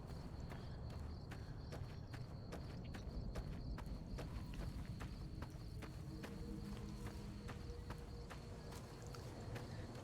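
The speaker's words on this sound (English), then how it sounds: "I wish these big old goats weren't wandering around the town." Goats wander around a town in the video game Fallout New Vegas, their hooves tapping out a quiet, steady, rhythmic clip-clop over a low background ambience.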